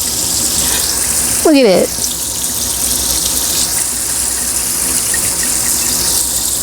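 Water streams continuously from a GIMILI waterfall kitchen faucet into a sink, a steady close gushing wash with a brief splashing surge near the start, while a person speaks briefly over it.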